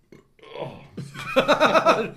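A person lets out a loud, drawn-out burp up close at a tabletop card-game session, the sound rising into a rumbling pulse over about a second and a half.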